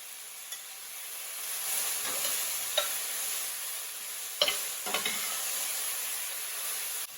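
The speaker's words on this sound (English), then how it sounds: "Saute it nicely. I'm adding green chilies cut lengthwise." Green chilies cut lengthwise sizzle steadily in a hot oil-filled pan while being sautéed for potato masala, a constant close hiss with a few sharp stirring clicks and scrapes from a utensil.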